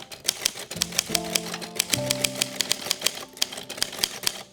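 Keys clack sharply and rapidly on a traditional typewriter, a close, loud run of crisp strikes in an uneven rhythm, with a brief mechanical ringing tone near the middle.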